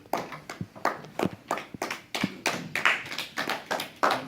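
Sparse, hesitant clapping from a church congregation, individual claps spaced irregularly and slowly gathering into a loose rhythm, fairly close and without talk.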